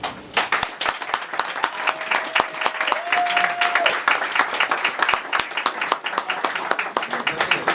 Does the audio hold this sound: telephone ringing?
no